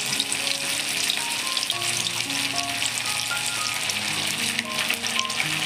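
Chicken lollipops coated in masala sizzle steadily in hot oil, a dense bright crackle that runs unbroken and close throughout with no one speaking.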